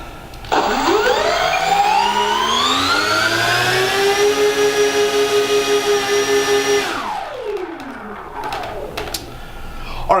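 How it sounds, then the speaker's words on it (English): Twin electric motors on a BlitzRCWorks P-38 Lightning RC plane whine up steadily in pitch as the throttle rises, holding a loud, close, pulsing drone for several seconds before spinning down, with faint handling noises afterward. "really paying attention to the plane as we ramp up throttle"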